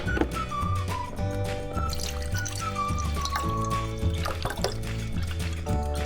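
Water being measured out and poured while making syrup for homemade grape wine: a steady liquid pour and trickle with drips runs throughout over a tonal background of music.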